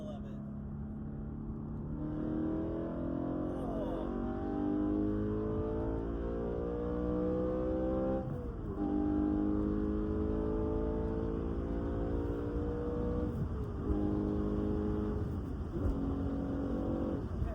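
A BMW E9X M3 engine fitted with an Eventuri plenum intake revs continuously, harmonic engine tones rising and falling in steady pulls with a few brief dips between throttle blips, loud and close with no talk over it.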